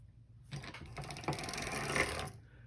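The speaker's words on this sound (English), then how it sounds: "Raise the seventh needle." Hand-cranked sock knitting machine with a needle being raised, giving a close, continuous mechanical whirring and ratcheting clatter for about two seconds with a small knock midway before it stops.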